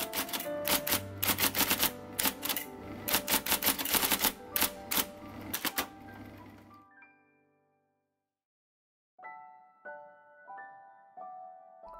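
IBM Selectric electric typewriter typing loudly, a rapid run of sharp mechanical key strikes for about six seconds, then a short pause before a few brighter carriage and bell-like clacks resume near the end.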